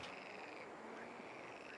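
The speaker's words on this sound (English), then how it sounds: "The frogs are laughing at me. I can hear that." Frogs croak steadily in a fishing video game, Call of the Wild: The Angler, a faint continuous chorus of raspy calls blended into soft ambient background with no talking.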